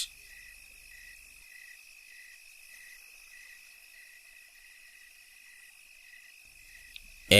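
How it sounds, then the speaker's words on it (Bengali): Crickets chirp at night in a dark, eerie cartoon scene, a thin, steady, pulsing trill running throughout at moderate level with nothing else over it. "ঝিঝি পোকার ডাক কানে ভেসে আসছে"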